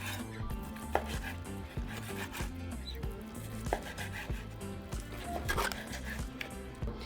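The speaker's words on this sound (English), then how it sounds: "we're going to cut into small cubes." A knife cuts steak into small cubes for carne asada on a cutting board, giving a steady run of quiet, close chopping taps over faint background music.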